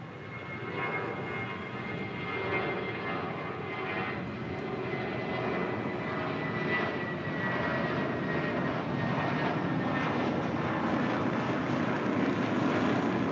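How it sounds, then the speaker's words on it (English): A Volaris Airbus A320 departs from Los Angeles International Airport bound for Zacatecas, its jet engines roaring steadily and close, a dense rumble with a faint whine that gradually grows louder. "This is Volaris 923 departing to Zacatecas on Blanquita, the A320."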